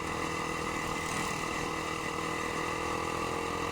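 An eight-year-old Yamaha R15 motorcycle engine idles continuously up close, a dense, even drone with a buzzy mechanical texture and no pauses.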